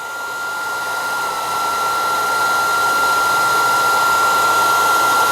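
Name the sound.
heat gun warming solder and heat shrink tube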